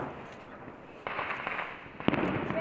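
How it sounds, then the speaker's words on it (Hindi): Diwali firecrackers bursting in Solan, Himachal Pradesh: two sharp cracks about a second apart, the second one louder, over a constant crackling festival din. "अच्छे से पटाखे चला रहे हैं"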